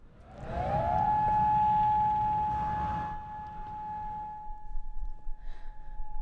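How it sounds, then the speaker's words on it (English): A loud tornado warning emergency siren, sounded in a statewide tornado drill test, holds a steady wailing tone for several seconds, then fades away, leaving faint background noise. "emergency sirens were tested during the statewide tornado drill for Severe Weather Awareness Week"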